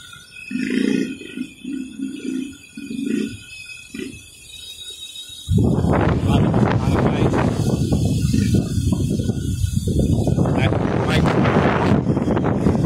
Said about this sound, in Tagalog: Ang hangin o lakas ang hangin.